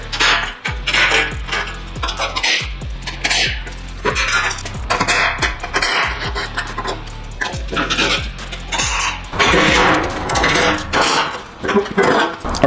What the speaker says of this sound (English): We're gonna whip off the factory skid plates.